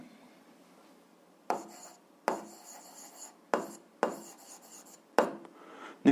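Writing on a board during an algebra lesson, six separate scratchy strokes spaced about a second apart, close and clear against a quiet room.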